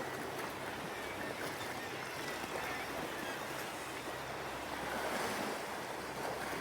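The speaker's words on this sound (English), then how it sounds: "That wind is starting to really pick up." Steady wind and breaking surf at the seashore near St Abbs, a constant broad rushing wash with gusty microphone buffeting throughout and no voices.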